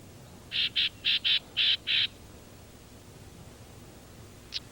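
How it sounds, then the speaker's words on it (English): A male whitethroat sings to defend his territory, six short, bright, scratchy bursts in quick succession followed by a single faint note after a pause, heard alone against quiet outdoor background. "the whitethroat boldly proclaims himself as he defends his territory against rivals"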